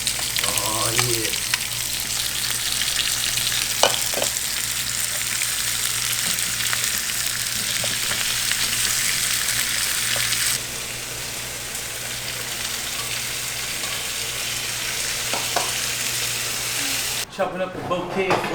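Chicken feet fry in a cast iron combo cooker with a steady, close, broadband sizzle that holds throughout, dropping slightly partway, with faint voices and kitchen clatter underneath.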